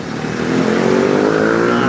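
A Madinah Trans bus with a New Armada body and a Hino engine rolls past, its motor noise swelling and holding loud with a rising whine through the brief pass.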